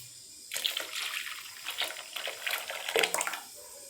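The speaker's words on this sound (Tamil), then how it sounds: "கடலை மாவு ஊற்றியாச்சு." Gram flour mixture poured into a simmering fish curry, a close, steady liquid splash and trickle lasting about three seconds before stopping.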